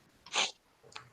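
A single sharp human sneeze, close and fairly loud, followed by a softer breathy sniff a moment later.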